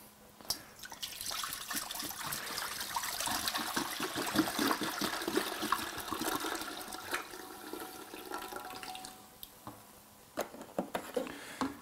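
Cranberry juice glugs and splashes steadily out of a 3-liter bottle into a container of turkey brine, a continuous liquid pour lasting several seconds before a few last drips and knocks.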